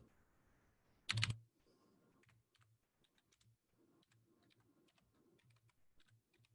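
Computer keyboard typing in a quiet room, a rapid patter of faint, irregular keystrokes following one loud close thump near the start.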